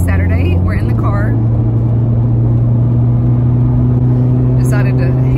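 Car interior on the move toward the interstate, a steady loud low rumble of engine and road noise throughout, with people talking over it near the start and end.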